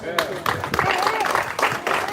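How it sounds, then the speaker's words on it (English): An audience applauds at a campaign rally in Detroit, a steady wash of clapping with voices shouting over it, close and fairly loud throughout. "let's give him a round of applause"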